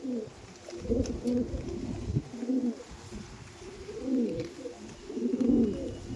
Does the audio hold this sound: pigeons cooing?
yes